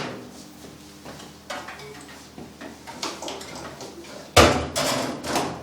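A frying filtration unit is set into a deep fryer with a handful of metallic clunks and knocks, sharp and close, ending in one louder bang followed by rattling contact.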